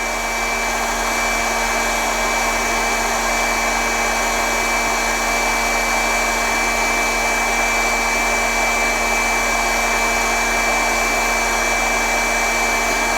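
A hot air rework tool blows a steady, loud whooshing stream of air to loosen a memory chip, with a constant tonal whine and no change across the whole stretch.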